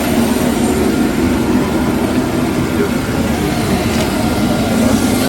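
Airplane on arrival of the president at Bunia, heard as a loud, steady engine roar that fills the scene without a break. A voice may be talking faintly underneath.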